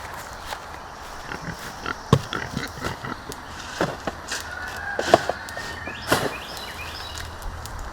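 Scattered grunts and snorts from pigs amid farmyard clatter, with a few sharper knocks and bumps, moderately close.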